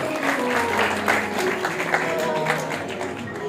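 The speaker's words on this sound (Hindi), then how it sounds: "मेरा छोटा भाई गैरी बीट्स, इसके लिए ताली की सेवा करो जरा।" Steady applause from an audience at a devotional music performance, continuous clapping throughout with a crowd murmur underneath.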